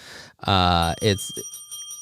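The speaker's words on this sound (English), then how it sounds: "That's the same bell that they use on Hysteria 51 that I have danced to." A bicycle-style bell used as a podcast sound effect gives a few bright rings that ring on after a short burst of a voice at the start.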